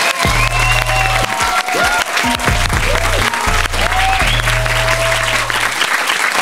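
A studio audience applauds loudly as a guest enters, continuous clapping running throughout while steady synthetic music tones and swooping sounds play underneath.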